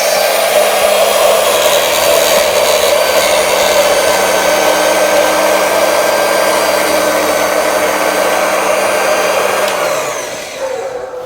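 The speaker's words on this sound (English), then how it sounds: "So I'm trying 20 layers of fabric just to see how that works." A Two Lion round-blade electric fabric cutter runs through a stack of 20 fabric layers, giving a loud, steady motor whine with a constant high hum that winds down and stops near the end.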